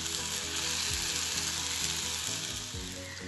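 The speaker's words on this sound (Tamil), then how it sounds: "புளி தண்ணி ஆட் பண்ண போகிறேன்." Loud, steady sizzling and bubbling as tamarind water with salt, turmeric and chili powder hits a hot pan for vatha kuzhambu, continuous throughout with no voices.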